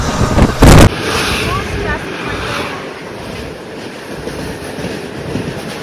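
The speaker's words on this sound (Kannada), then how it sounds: "ವಾಸ್ಕೋಡಗಾಮ ಟು ಯಶವಂತಪುರಕ್ಕೆ ಹೋಗೋ Yeshwanthpur express 17310 train heavy ಸ್ಪೀಡಲ್ಲಿ crossing ಮಾಡ್ತಾ ಇದ್ದೀವಿ ನೋಡಿ" The Vasco da Gama–Yesvantpur Express 17310 crosses at high speed, heard as a steady rushing roar with a short, loud burst near the start.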